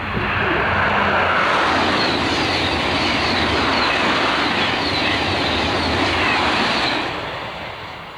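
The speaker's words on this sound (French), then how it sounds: "C'était le TGV 233." A TGV high-speed train rushes past on a line near Époisses, a loud, dense roar of wheels and air that holds steady for several seconds and then gradually fades.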